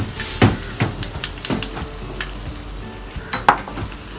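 Onions sauté for tofu sisig, a soft frying sizzle under repeated scraping and stirring knocks of a utensil against the pan, irregular and close.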